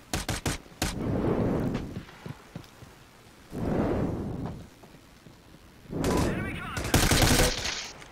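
Gunfire in the video game America's Army: Proving Grounds, with sharp rapid shots at the start, then sustained bursts of automatic fire in three long rolling stretches, loud and close.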